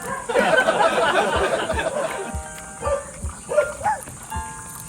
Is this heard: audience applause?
no